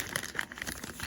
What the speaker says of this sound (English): This is the plastic bag with the instructions and stuff like that in it.